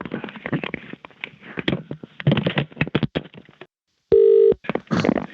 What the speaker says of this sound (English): telephone's rung again